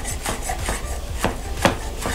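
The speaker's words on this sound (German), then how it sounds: "Und das Ganze hacken wir jetzt fein durch." Parsley and oregano leaves being finely chopped with a knife on a board for herb butter, about eight crisp rhythmic chops close up over a soft background hiss.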